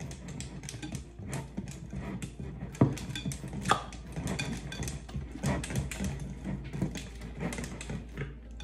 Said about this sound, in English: you just want to mix that together nice and easy